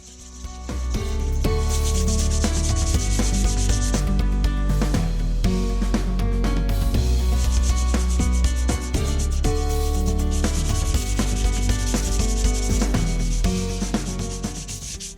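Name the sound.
sanding body filler on a motorcycle fender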